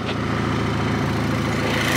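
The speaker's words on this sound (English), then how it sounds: "And the engine is running smooth." A Volkswagen 2.0T TSI engine, just repaired after a seized balance shaft, runs at a steady, even idle, close by, with a low continuous hum and no other sounds.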